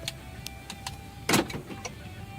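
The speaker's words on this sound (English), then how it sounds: "we will use the key to have a test to turn off the car. And we try to lock the car." Toyota Sienna 2022 locking by key: a sharp mechanical clunk of the door locks actuating, followed by a few faint clicks, alone in a quiet setting.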